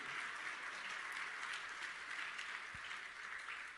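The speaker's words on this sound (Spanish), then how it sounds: "Damos un aplauso al Señor." Steady applause from a church congregation at a Spanish-language sermon, continuous dense clapping from many hands at moderate distance, holding evenly without any voice.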